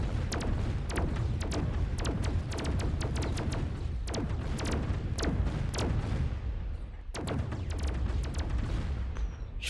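Units in the strategy video game Mechabellum fire in rapid succession, a dense barrage of sharp gunshot cracks and heavy booms layered over rumbling battle noise, continuing throughout with a brief lull partway.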